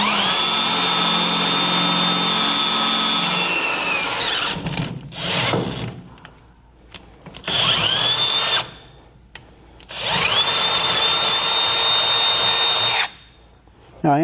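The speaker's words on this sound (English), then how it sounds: "So we're going to start out with a smaller drill bit." A power drill whines loudly in three bursts while drilling a pilot hole with a small bit for a fifth wheel trailer hitch on a 1996 Ford truck, its pitch dipping as the bit bites in, with short quiet gaps between runs.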